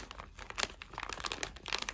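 Store-sealed vacuum plastic packaging around smoked pork neck bacon crinkles and crackles as the meat is pulled out, a close, busy rustle of short crisp bursts with no talk.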